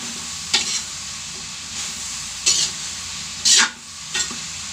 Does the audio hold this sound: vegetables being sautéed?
yes